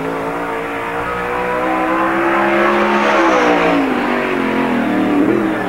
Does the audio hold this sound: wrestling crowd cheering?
no